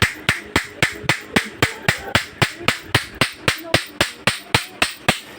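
A pair of pliers serves as a hammer, striking hard in a steady, evenly spaced series of about twenty sharp metallic knocks during an electric fan repair. The blows are close and loud, with no talking.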